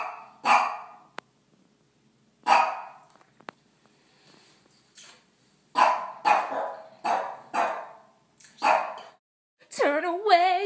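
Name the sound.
dog barking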